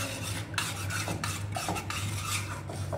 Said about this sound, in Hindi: इसको अच्छी तरह हम मिक्स कर